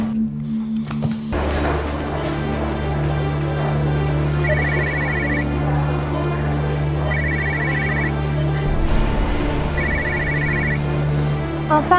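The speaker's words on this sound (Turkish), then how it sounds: "Hanımefendi, telefonunuz çalıyor." A mobile phone rings repeatedly with a short, evenly spaced electronic ringtone during a Turkish drama scene, heard over steady background music and room ambience.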